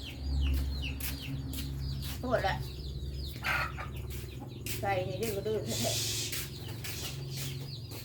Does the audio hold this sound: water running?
no